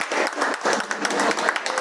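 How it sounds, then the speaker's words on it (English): Applause from a Toastmasters meeting audience: a short burst of steady, moderately loud clapping from a small room crowd, filling the whole moment with no talk. "A big round of"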